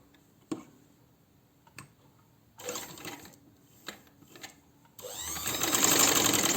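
A sewing machine stitches the neck patti on a kurti, with a few isolated ticks and short runs, then a steady, louder whirring run of stitching at the end.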